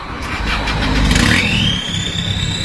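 A remapped stage 3 Isuzu D-Max 3.0 diesel pickup engine cranks and fires up, catching into a loud rumbling idle, with a rising whine trailing after the start.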